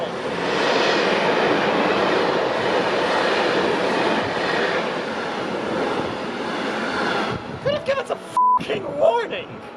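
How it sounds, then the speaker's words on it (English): A cargo train rumbles past close by in Luxembourg, a long heavy roar that fades out, followed by brief clicks and handling noises. "I was shooting a time lapse and then suddenly cargo train!"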